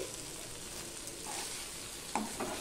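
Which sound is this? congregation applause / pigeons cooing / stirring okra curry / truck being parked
stirring okra curry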